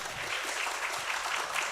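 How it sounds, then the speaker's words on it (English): Conference audience applauding, a dense steady wash of many hands clapping at close range with no voices over it. "Please give applause."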